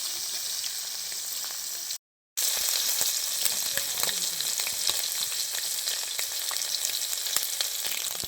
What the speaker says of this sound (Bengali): খুব ভালো করে ভেজে নেব।